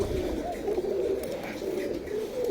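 Soft, close cooing from pigeons in a loft, a few rolling throaty coos in quick succession.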